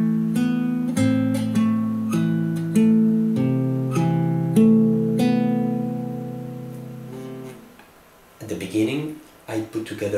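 A fingerstyle acoustic guitar plays the opening measure of Bella Ciao as clear, close plucked notes over a ringing bass, fading out before a voice begins talking.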